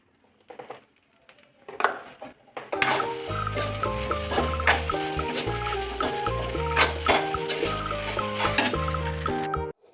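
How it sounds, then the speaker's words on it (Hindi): Masala with turmeric and coriander powder stir-fried in a pan for poha, a few faint clinks giving way to a loud, steady sizzle with stirring scrapes running to the end. "तो अब इसको भून लेंगे टर्मरिक डालने के बाद।"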